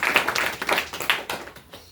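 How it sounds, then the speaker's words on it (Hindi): A church congregation at a night prayer meeting claps hands for about two seconds, giving a brief run of uneven, fairly close claps that fades toward the end. "ये हम ताली मारेंगे।"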